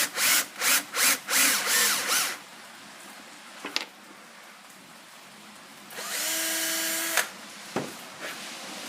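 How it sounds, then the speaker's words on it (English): Power drill boring all the way through two stacked pieces of wood, several short revving bursts, a pause with small knocks, then a steady high whine as the bit cuts before it stops, near and alone. "Now I'll drill all the way through both of them."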